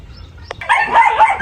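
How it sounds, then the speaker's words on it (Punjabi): A German dog barks at a rooster on a farm, one loud close bark followed by a short burst of yelping and whimpering cries. "ਉਹ ਮੁਰਗੇ ਨੂੰ ਭੌਂਕਦਾ ਪਿਆ"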